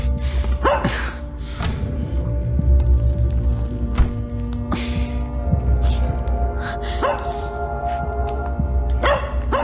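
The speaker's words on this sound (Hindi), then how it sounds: "ओह, ये पिल्ला कुछ बता रहा है।" A puppy barks in short, sharp yips scattered across the scene, close and fairly loud, over a low rumbling background with occasional gasps or voices.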